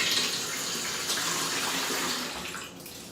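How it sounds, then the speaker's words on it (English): Tap water pours steadily into a 9x13 metal baking pan, a continuous close hissing splash that softens slightly toward the end, with no voices. "So you're just going to put some water in it,"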